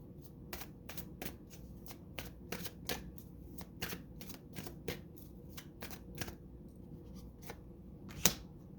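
Tarot cards being shuffled by hand, a steady series of soft, close riffling slaps with a brief sharper snap near the end, and no talk.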